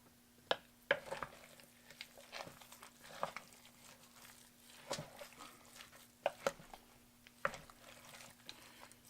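Homemade dog food is stirred in a pot on a stovetop turned up to high, giving soft scraping strokes and wet squishes amid a faint sizzle, quiet and close, with no talking.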